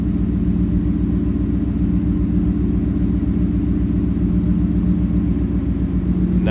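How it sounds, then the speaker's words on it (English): A 2023 Ford F-150 XLT SuperCrew 4x4 with a supercharged 5-liter V8, idling with a steady, loud, deep exhaust rumble that holds even throughout, with no talking. "We got a little rumble out of this one."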